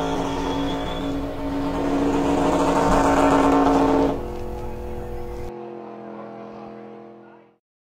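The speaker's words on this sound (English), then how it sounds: "Bobby Swift doing the burnout." A race car doing a burnout after the Alabama 500 at Talladega Superspeedway: a loud, sustained high-revving engine roar with tire noise. The roar eases in stages and then cuts off abruptly, leaving a fading hum.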